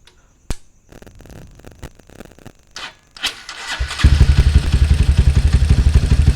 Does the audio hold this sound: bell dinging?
no